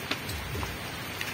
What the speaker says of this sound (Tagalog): Tuloy-tuloy pa rin yung patak ng ulan.